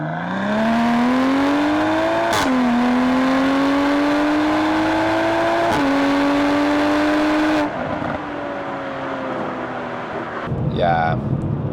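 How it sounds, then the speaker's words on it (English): A 507 hp BMW M440i Stage 2 with a six-cylinder engine accelerates hard, its loud deep engine note climbing steadily through three gear changes, then easing off and settling before a short whine near the end. "I will just accelerate here a little bit and shut up."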